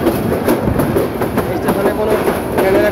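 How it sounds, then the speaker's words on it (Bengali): Train passing Kalika Prasad railway station on the Mymensingh–Bhairab line. Loud, close clickety-clack of wheels over rail joints beats in a quick rhythm over a continuous heavy rumble. "কালিকা প্রসাদ রেল স্টেশন অতিক্রম করে যাচ্ছে"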